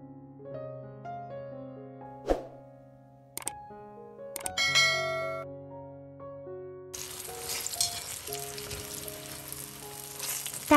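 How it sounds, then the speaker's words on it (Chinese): Eggplant strips are dropped back into oil heated to about 210°C for a second frying. Background music plays first, then a loud, dense sizzle bursts in and continues steadily to the end. "把油锅加热到210摄氏度左右，把炸好的茄条放入复炸，这样炸出的茄条更外酥里嫩。"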